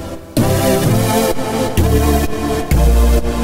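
An electro house synth plays a very basic melody alone, bright plucked notes arriving in short repeating phrases, loud and clean without any voices.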